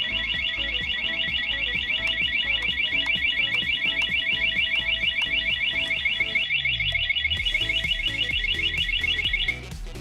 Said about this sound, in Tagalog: kapag switch on mo siya, mag-a-alarm na siya agad